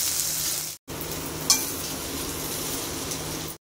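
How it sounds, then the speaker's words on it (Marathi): Onion, tomato and masala for shev bhaji sizzle and fry steadily in a pan, with a brief metallic clink of a spoon against the pan partway through. "आणि आता हे पुन्हा परतून घेऊया।"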